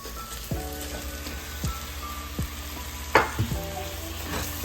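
Chicken pieces frying in a spiced paste with garlic and ginger, giving a steady close sizzle with scattered crackles and pops throughout, plus one sharper burst of spitting partway through; no one speaks.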